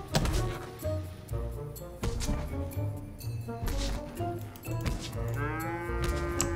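A cow moos in the video game Fortnite, drawn-out bovine lows over busy game music and thuds, close and fairly loud, with a rising tone near the end.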